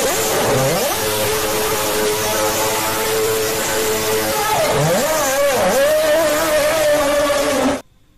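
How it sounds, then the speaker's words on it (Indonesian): A toy Formula One race car's engine revs loudly and continuously, the motor whine sweeping up and down in pitch several times before cutting off abruptly near the end. "Ini mobil balap Formula"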